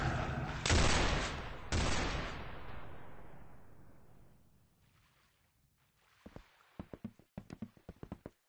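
Heavy gunfire from the video game Arsenal: two loud, close bursts of rapid shots that ring out and fade over several seconds, followed by a string of sharp, scattered single shots and taps.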